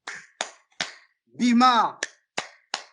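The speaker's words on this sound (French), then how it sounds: "quand tu ne comprends vraiment pas, ils applaudissent normalement comme ça" A few sharp hand claps spaced in a loose rhythm, close and clear, with a brief spoken word in the middle.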